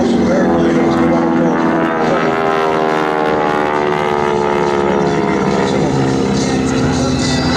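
A North American T-6 Texan flies aerobatics at the 2011 Culpeper Air Fest, its loud radial engine and propeller drone steady throughout, with a rising and falling harmonic pitch and a commentator talking over it.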